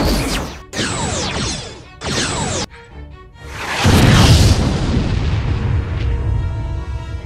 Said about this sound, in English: Firing phasers.